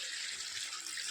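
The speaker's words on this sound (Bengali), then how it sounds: "জল দিয়ে দিই।" Tap water runs steadily into a cooking pot, a continuous close hiss of pouring water heard alone with no talk.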